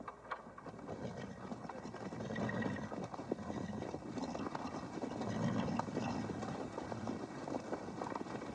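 A horse at a prison training program, handled by inmates, clip-clops along with steady hoofbeats at moderate distance over a soft background of wind and outdoor noise.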